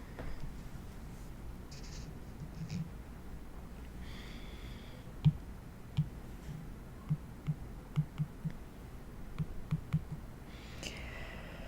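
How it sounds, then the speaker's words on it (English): Calculator keys are pressed in short irregular bursts, giving soft muffled taps at close range over a quiet hum, with no talking. "You have to enter way more keystrokes than this one here."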